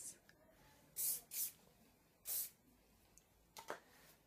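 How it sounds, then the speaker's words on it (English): Several short bursts of hairspray aerosol hiss, close and crisp, with quiet pauses between them. "just spray it and it will stay in place."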